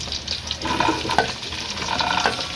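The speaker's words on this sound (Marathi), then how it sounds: "कांदा चांगला लाल होईपर्यंत परतायचा" Chopped onions sauté in a hot pan for a crab curry, giving a steady close sizzle with scraping stir strokes throughout. No one speaks.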